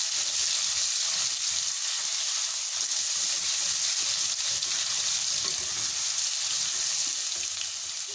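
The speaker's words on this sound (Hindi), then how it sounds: "जैसे ही इसमें ज़ीरा थोड़ा सा गर्म होने लग गया, तो इसमें 1 चम्मच हम अदरक लहसुन का पेस्ट डालेंगे।" Ginger garlic paste frying with cumin seeds in a hot pan while cooking matar aloo curry, a steady close sizzle that holds throughout with no talk.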